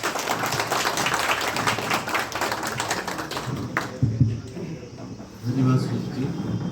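Audience applause welcoming a doctor at a college blood donation awareness camp, loud crowd clapping for about four seconds that fades out into a quiet room with a few sounds.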